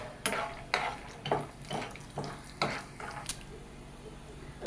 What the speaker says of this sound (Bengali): এই দেখো বাদামটা ফ্রাই করে নিচ্ছি।